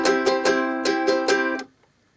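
Ukulele strummed in a steady pattern with open, unmuffled chords, six bright strokes ringing in quick rhythm before the final chord dies away into silence.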